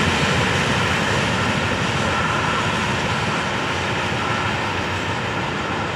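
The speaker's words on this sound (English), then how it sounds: "Running train." A steady, continuous rumble of a running train, loud and unbroken throughout, with broad low-frequency roar and no voices.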